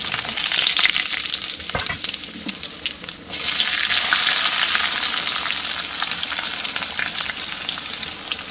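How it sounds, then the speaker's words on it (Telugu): Tempering of curry leaves and spices frying in hot peanut oil for a ripe red chilli pickle, a loud, continuous close sizzle with crackling spatter that surges after a brief dip, no speech. "నూనె మరిగినాక చక్కగా తాలింపు వేసుకుందాం."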